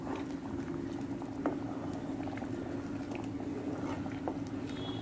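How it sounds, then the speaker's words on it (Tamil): Water boiling in a pot on a stove for rava kesari, a steady close bubbling and popping with a continuous low rolling hiss, moderately quiet with no voices. "தண்ணி வந்து நல்லா கொதிக்க ஆரம்பிச்சிருச்சு"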